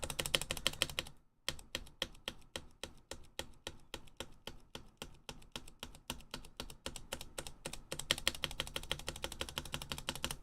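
Steady, fast typing on a Vanguard65 keyboard with tuned stabilizers, close and quiet, a dense run of crisp key clacks broken by one brief pause, with no voices.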